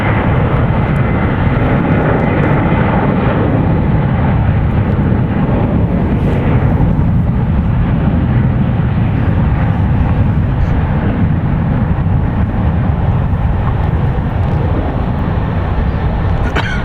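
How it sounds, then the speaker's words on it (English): A six-year-old United Airlines Boeing 737-800 departing runway 28 left at San Francisco International Airport, a loud, sustained jet engine roar that holds steady throughout, close and powerful. "Shot there as the 737 departs behind the San Francisco International Airport Tower."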